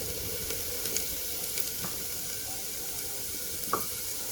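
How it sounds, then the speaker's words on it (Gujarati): Garlic sizzles as it roasts in butter in a pan, a steady close hiss with a few soft clinks of stirring. "લસણ શેકાવાની સરસ એવી બટર સાથે સુગંધ આવી રહી છે."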